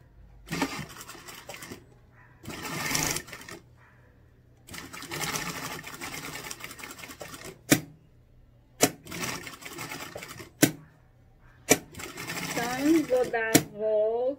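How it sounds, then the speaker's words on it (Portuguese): A sewing machine stitches a zipper onto a rounded toiletry bag in several close, loud whirring bursts separated by pauses, with sharp clicks and a person talking in between. "vou costurar outra parte do zíper do outro lado, ó, tá?"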